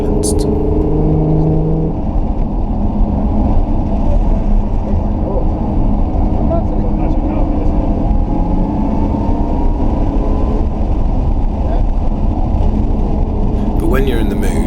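A Lotus Evora 400 running with its exhaust valves fully silenced gives a loud, continuous engine drone at steady revs, heard from inside the moving car.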